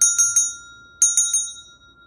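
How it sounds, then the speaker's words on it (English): A small bell rung to cleanse crystals gives two bright bursts of three quick metallic dings each, every strike leaving a clear ringing decay, close and loud against silence. "You can also use something such as a bell."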